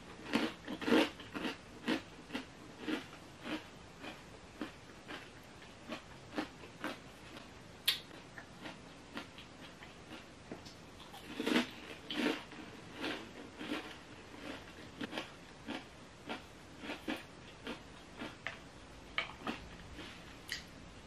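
Crisp bites and chewing of crunchy gluten-free puff pastry, a steady run of short, close crackling crunches with brief pauses, no talking.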